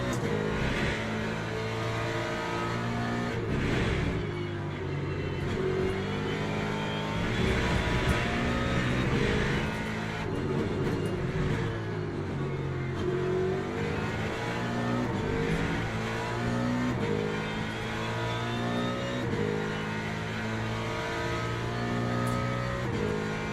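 Porsche race car engine in Le Mans Ultimate, a steady loud engine drone with rising and falling revs through gear changes and corners, continuous throughout with no talk.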